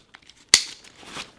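A single sharp snap of a buckle clip fastening a backpack bag onto its frame, part of backcountry elk hunting gear, followed by faint rustling of straps and fabric.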